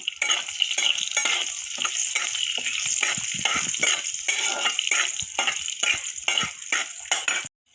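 Whole cinnamon, cardamom, bay leaf and green chilli frying in hot oil, a steady close sizzle with repeated scraping stirs of a utensil against the pan, running evenly until it cuts off at the end.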